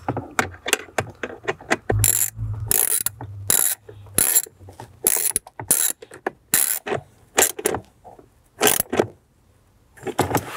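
A ratchet wrench tightens a 10 mm bolt from underneath a 2011-2018 Jeep Wrangler JK during a sound system install. Close, crisp bursts of rapid clicking stop and restart repeatedly.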